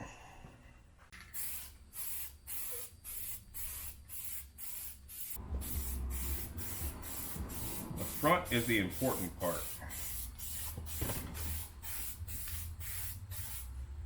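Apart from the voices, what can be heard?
spray can painting car parts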